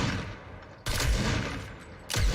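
Gunfire from a scoped revolver in a shooter video game, two loud sharp bursts with a brief quieter gap between them, close and punchy, no talk over them.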